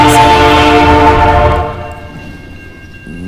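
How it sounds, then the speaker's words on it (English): A Santa Fe freight train blasts its horn loudly and close for about a second and a half, then the horn cuts off while the train keeps rumbling past more quietly, with a brief renewed tone near the end. "And here comes another train"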